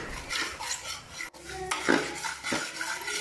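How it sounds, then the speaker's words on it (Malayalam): A spoon scrapes and stirs pineapple avalose mixture in a pan in steady, close strokes, with occasional metallic knocks against the pan and no talk. "ലൈറ്റ് ബ്രൗൺ ആവുന്നത് വരെ നമുക്ക് ഇളക്കിക്കൊണ്ടിരിക്കാം"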